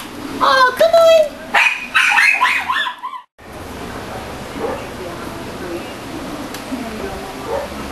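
A small puppy yips and barks in a few quick high bursts at the start, followed by quieter room ambience with a faint whimper or two.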